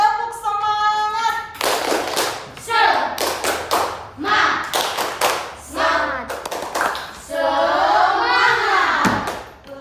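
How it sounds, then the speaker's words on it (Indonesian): Schoolchildren in a lesson perform a patterned 'tepuk semangat' spirit clap, sharp bursts of hand claps in set rhythmic groups alternating with chanted voices, loud and close. "Oke, tepuk semangat."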